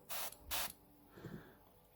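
Sand-coloured spray paint hisses onto a Shoretrooper figure in two short, loud bursts, followed by a faint mechanical rattle.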